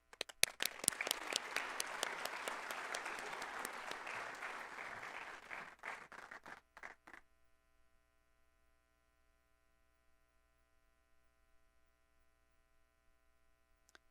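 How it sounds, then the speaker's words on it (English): Sustained applause from a sizable crowd at a scholars' induction ceremony, steady and fairly loud, fading out after several seconds and leaving a low electrical hum. "Let's give them another round of applause"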